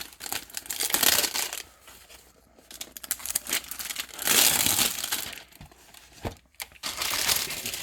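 A 1989 Topps baseball card box wrapper being torn open, with bursts of crinkling and crackling plastic in several close, fairly loud rounds separated by brief pauses.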